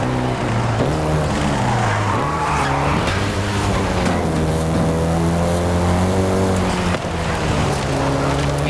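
Volkswagen Golf GTI racing in Forza Horizon 5, with a loud, continuous engine whine that rises and falls through gear changes and sustained tire skidding and squealing throughout.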